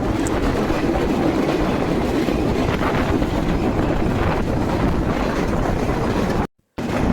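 The Nilsagar Express rushing past at speed near Basudebpur railway station, Bangladesh, a dense steady roar with rattling and wind buffeting throughout, cut by a brief dropout near the end.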